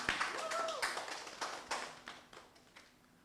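Audience clapping for a speaker at a Patois debate, a faint burst of claps that quickly fades into a few scattered claps, with a voice briefly audible.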